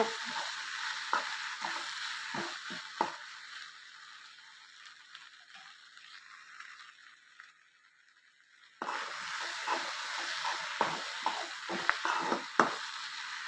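Chicken stuffing sautéing in a pan for chicken jalar parotta, with a steady broadband sizzle and repeated stirring scrapes, a brief quieter stretch midway before the frying noise returns at full strength.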